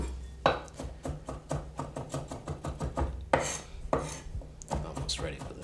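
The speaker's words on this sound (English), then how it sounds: "as you're chopping the garlic, quick hit, put some salt on it as you're chopping" A chef chops garlic with sea salt on a board, quick rhythmic knife taps in steady bursts, close and crisp, with a few heavier scraping strokes and no talking.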